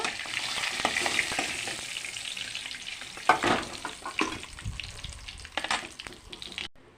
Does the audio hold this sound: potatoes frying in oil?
yes